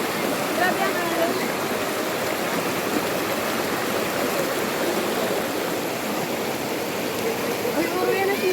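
Loud, continuous rush of churning water and breaking waves close by at a waterfall, a dense roar with no pauses.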